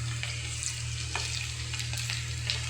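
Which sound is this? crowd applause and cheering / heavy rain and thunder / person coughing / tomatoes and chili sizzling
tomatoes and chili sizzling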